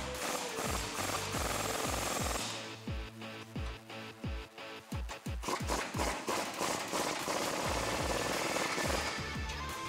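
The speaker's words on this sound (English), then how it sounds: "We'll get the impact and tighten them down." An impact wrench tightens nuts onto lower control arm bolts on a Jeep Wrangler JK, loud repeated hammering bursts in rapid rhythmic pulses, close up and without talk.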